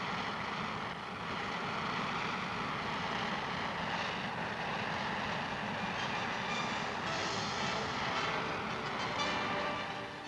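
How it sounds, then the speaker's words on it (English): A military transport aircraft of the 1963 Military Air Transport Service takes off with a steady, loud, broadband engine roar that holds without a break throughout. "Mats 144, winds 210 degrees, 12 knots, cleared for takeoff."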